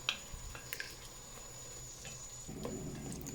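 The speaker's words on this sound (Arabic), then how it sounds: "خليها تتقلى شويه" Chopped tomatoes frying in a pan with a little oil, giving a soft, steady sizzle with a few light clicks and stirring taps, close but quiet and without talk.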